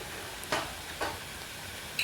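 A spoon scrapes through a spiced mashed potato mixture with red chili in a hot pan for bread pakora filling, giving three brisk stirring strokes over a soft, steady sizzle.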